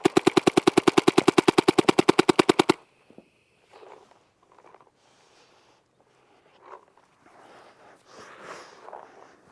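A paintball marker fires a rapid burst of about twenty-five loud, evenly spaced shots over the first three seconds, then stops, leaving faint rustling, footsteps and scattered outdoor noise.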